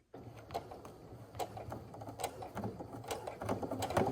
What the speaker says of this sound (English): I'm gonna sew down my pocket